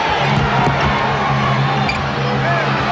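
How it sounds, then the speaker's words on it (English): Basketball arena crowd at the Summit during the 1995 NBA Finals between the Rockets and the Magic, a loud, continuous roar of cheering and hubbub filling the whole stretch with no break. "Hear the reaction from the crowd here at the summit."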